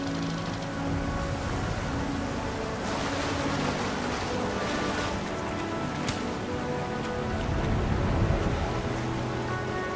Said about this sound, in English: Are you getting swept away by that waterfall?